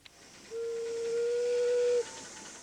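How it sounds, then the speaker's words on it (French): A miniature live-steam train on a club-built track in a Brussels park gives one clean, steady whistle lasting about a second and a half, sharp and fairly close, over faint outdoor background hiss. "Une ligne installée par un club forestois de trains miniatures à vapeur"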